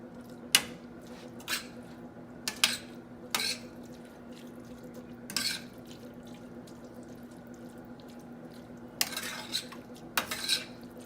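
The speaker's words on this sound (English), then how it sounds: "that a good stir, mix that up." Corn dip being stirred in a pot, with a utensil scraping and clinking against the metal in scattered short bursts over a steady low kitchen hum. No one speaks.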